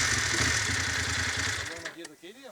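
A KTM 790 Adventure motorcycle engine runs with a loud, low, rumbling hum that drops away near the end, where a voice briefly speaks.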